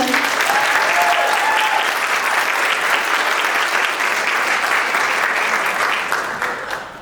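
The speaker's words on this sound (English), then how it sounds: "can we get a round of applause for Nova?" A school audience gives sustained, loud, dense applause that holds steady for several seconds before tapering off slightly at the end, with a faint cheer early on.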